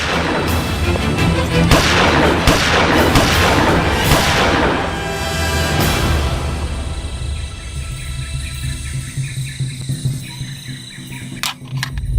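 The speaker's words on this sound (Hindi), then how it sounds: "कवर फायर करो।" Loud, dense bursts of gunfire providing covering fire in a Crime Patrol TV crime drama, sustained through the first half and then thinning into scattered shots and a few sharp late cracks.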